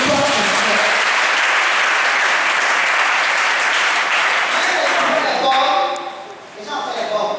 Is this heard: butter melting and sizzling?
no